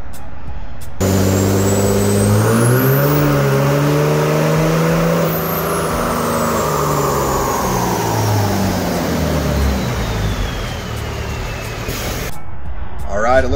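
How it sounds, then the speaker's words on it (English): A 2004 Dodge Cummins diesel pickup truck roars at full throttle on a dyno, engine pitch climbing steadily then winding down, with a high turbo whistle, loud and close. "Last week we had a 2004 Dodge Cummins on the dyno."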